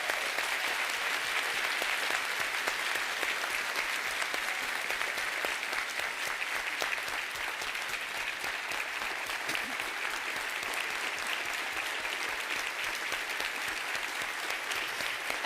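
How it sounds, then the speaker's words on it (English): A large audience gives sustained, even applause, a dense wash of clapping that holds steady and loud throughout with no break. "let's all give a warm round of applause to Constable Precinct 1 Deputy Sheila Jones"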